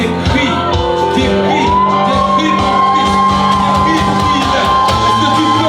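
A church congregation shouts, whoops and cheers for Christ in a loud, sustained wave of voices over a steady organ-like tone and rhythmic clapping.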